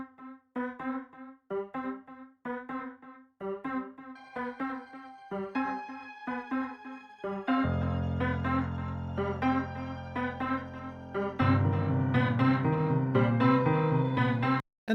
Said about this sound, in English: So then we have the echo, the piano echo.